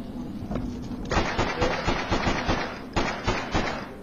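Gunfire in the video game Freedom Fighters, a shootout with police: sharp bursts of shots pop in rapid, uneven clusters at moderate volume, separated by short pauses.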